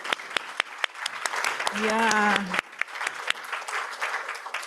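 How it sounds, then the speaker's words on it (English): Audience applause for event staff at a workshop's final presentations, many hands clapping steadily throughout, briefly joined midway by a loud sustained whistle or cheer, with a short spoken word in the crowd. "they deserve a good clap, please"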